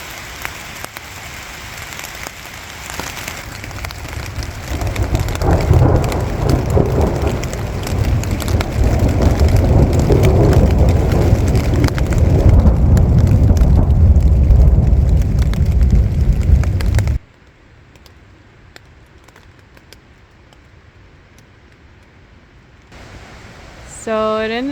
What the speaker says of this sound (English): It's raining a little harder now.